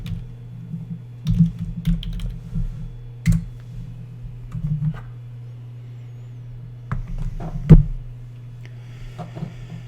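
Typing a web address on a computer keyboard gives a sparse run of soft key clicks, close and quiet over a steady low hum, with no talking.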